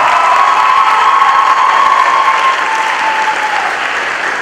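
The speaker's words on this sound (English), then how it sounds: "Let's give her, that's a round of applause." Audience applause at a spring choir concert, steady dense clapping with some cheering sustained throughout, gradually easing slightly toward the end.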